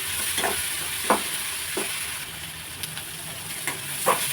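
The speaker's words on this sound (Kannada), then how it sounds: "ನೋಡಿ, ಈ ರೀತಿಯಾಗಿ ಫ್ರೈ ಮಾಡ್ಕೋಬೇಕು. ಚಾಕ್ನ ಸ್ಲೋ ಫ್ಲೇಮಲ್ಲಿ ಇಟ್ಕೊಂಡಿದ್ದೀನಿ." Onion and tomato frying on a slow flame for rava upma, a soft steady hiss with a few light stirring scrapes, fairly quiet and close.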